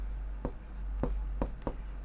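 A pen writes in a notebook while a maths answer is worked out, giving four quick scratchy strokes close to the mic over a steady low hum, with no voice.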